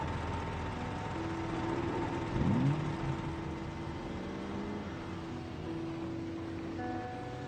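A car engine idles steadily in Project Zomboid, left running to charge the battery. The low hum stays constant and moderate, with a brief rising whine partway through.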